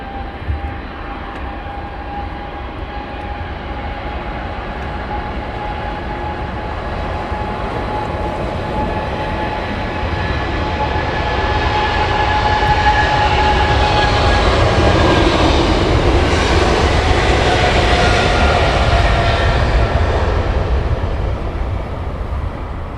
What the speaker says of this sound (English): Get the WestJet coming in.